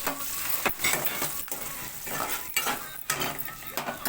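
Urad dal, peanuts, asafoetida, cashews and dried chillies fry in a pan with a steady sizzle, broken by periodic scraping stirs and faint clinks of a spoon against the metal.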